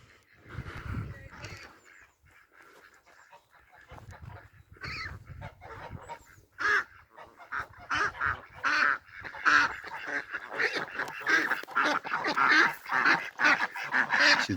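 Geese and ducks honking and quacking on a muddy pony-grazed wildflower meadow, calls sparse at first then building into a dense, overlapping chorus.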